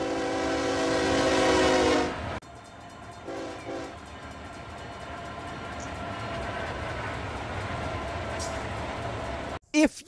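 A train in the Run8 Train Simulator game opens with a loud horn blast that cuts off abruptly, then gives way to a steady rolling rumble and a short second horn note, with a brief burst near the end.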